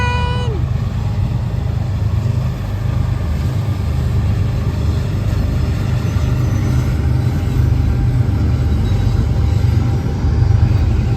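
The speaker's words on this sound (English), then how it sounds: "Here comes the train." A train rolls by on the track in a steady, loud, broad rumble that holds for several seconds, with a brief tonal squeal at the start.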